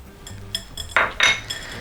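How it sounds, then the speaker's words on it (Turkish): Spoon stirring chocolate spread into a cheesecake base mixture in a bowl, a few sharp clinks and scrapes against the dish, close and fairly loud, with no talking. "Ve homojen bir karışım oluncaya kadar bunu karıştırıyoruz."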